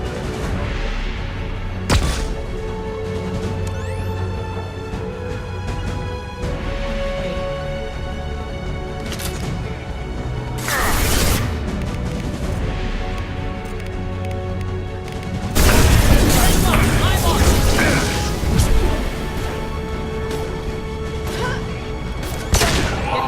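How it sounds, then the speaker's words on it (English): Flashbang grenades going off during a firefight in Mass Effect 2, sharp booms and crashes spaced through a tense game soundtrack, the biggest burst loud and near toward the end. "Watch out! Flashbangs!"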